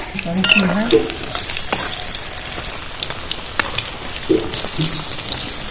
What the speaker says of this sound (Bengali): পকোড়াগুলো আস্তে আস্তে উলটিয়ে দেবো